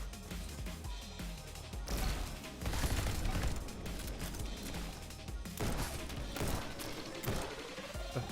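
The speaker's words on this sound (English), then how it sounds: "This is an assault rifle." Rapid assault rifle fire in the Neon White video game, dense bursts of gunshots with crashes and impacts running throughout, with brief quieter gaps between volleys.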